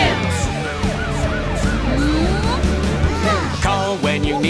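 An ambulance siren from a children's car song wails in loud rising and falling sweeps, repeating continuously over the bright backing music.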